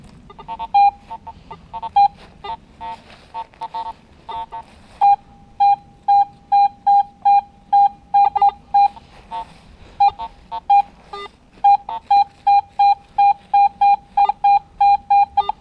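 A Model 20 Electroscope metal detector gives a repeated electronic beeping signal, scattered at first and then settling into a steady run of short, evenly spaced beeps, clear and close.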